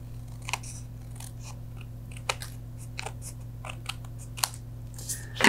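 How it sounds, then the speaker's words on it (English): Scissors snipping along the folded edge of a paper greeting card, a string of sharp, close cuts spaced irregularly, ending in a louder rustle. "I feel like I need a little bit more to guide my scissors, so I am folding the edge over to guide my snips down this edge of the card."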